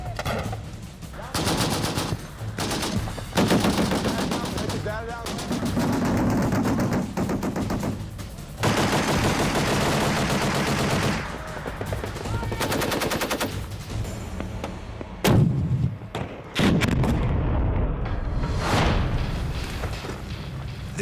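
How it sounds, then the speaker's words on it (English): Live machine-gun bursts and rifle fire mixed with booming artillery roll across a Marine Corps training range in the California wilderness, loud and nearly continuous, with short pauses between volleys. "Its tranquility broken only by the sound of live fire."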